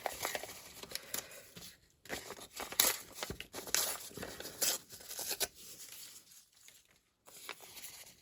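Music paper being handled and crumpled for a gift bag craft project, with irregular bursts of crinkling and rustling close by, broken by brief quiet gaps and no talking.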